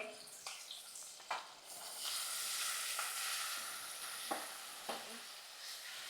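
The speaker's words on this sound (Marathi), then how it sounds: "आणि भाजी चांगली अशी परतून घ्यायची गॅस कमीच करून" Leafy shegla greens being sautéed in a pan over low gas, with a continuous close sizzle broken by several soft scrapes and stirs.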